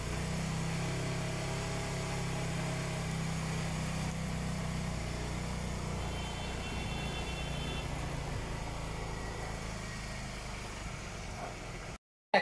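Hero Glamour motorbike engine running steadily after a kick start, a continuous close idle with a low, even drone for about twelve seconds before cutting off abruptly.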